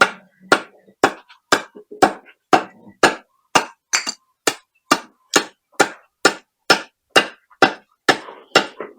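Steady, evenly spaced sharp whacks of a machete striking lightweight wall material, about twenty loud close blows in a row with brief silence between each.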